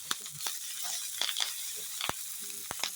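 Curry leaves crackle and fry in hot oil in a home kitchen, a soft steady sizzle punctuated by sharp pops and spatters, with occasional clinks of stirring.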